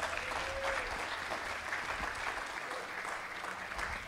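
Audience applause at a live Irish music show at the Stoltz Pavilion, a dense, even wash of clapping that holds steady throughout at moderate loudness.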